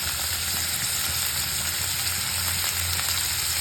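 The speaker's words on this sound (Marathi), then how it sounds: "आता मटार टाकते" Peas fry in hot oil for upma, giving off a steady, close sizzle with light stirring taps beneath a constant bright hiss and a low background hum.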